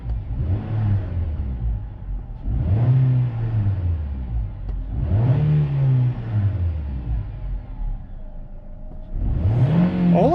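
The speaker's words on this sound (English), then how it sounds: "All of these revs, guys, they're like extremely smooth." A 2008 Nissan Rogue engine, with new spark plugs and ignition coils, revs up four times in a steady rhythm, each rise in pitch falling back to idle, loud and close.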